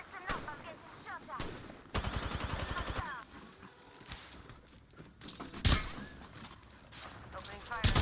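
Gunfire in the battle royale game Apex Legends, bursts of rapid shots around a firefight mixed with game effects and a voice talking over the action.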